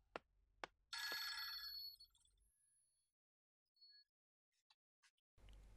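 Telephone ringing, a short sharp bell trill after a couple of faint clinks, followed by quiet gaps and small scattered sounds, with a burst of louder noise at the end.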